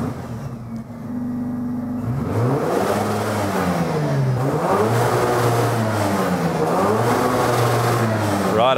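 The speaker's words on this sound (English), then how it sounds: "we're going to start this engine up, give it a few big revs and make sure they match" A car engine managed by a Haltech Elite Series ECU cranks, catches and fires up, then is given several big revs that rise and fall loudly and close before settling back.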